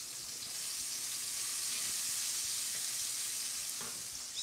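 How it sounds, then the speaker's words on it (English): Cooking oil sizzles steadily in a pan while bland bok choy and Chinese cabbage are prepared, a continuous close frying hiss with no talking. "Put 1 or 2 tablespoons of cooking oil."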